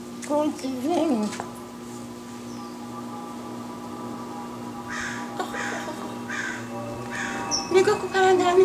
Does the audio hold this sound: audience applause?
no